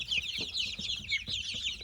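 Young ducks in a pen give rapid high-pitched peeping and chirping calls in quick, overlapping bursts, close by and steady throughout, with soft shuffling underneath.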